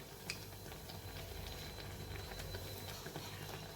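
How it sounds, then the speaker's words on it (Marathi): Urad dal vadas frying in hot oil over a medium flame, a soft, steady bubbling sizzle with faint crackles throughout, quiet and even, with no talking. "सगळे वडे मी तळून घेते"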